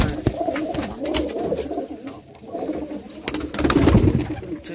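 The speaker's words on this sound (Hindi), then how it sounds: "ये बहुत तेज कबूतर है, अभी उड़ा रहा, अभी और उड़ता है।" Pigeons cooing in soft, repeated low murmurs, with fluttering and rustling nearby and a steady background hum.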